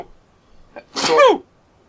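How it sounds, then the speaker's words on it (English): A single sharp human sneeze, close and loud, preceded by a brief intake of breath, with quiet room tone around it. "I just sneezed on my cookies"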